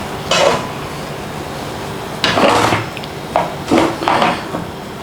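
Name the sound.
flipping egg ham cheese toastie in a pan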